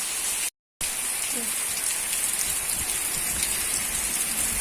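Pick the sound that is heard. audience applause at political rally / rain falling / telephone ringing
rain falling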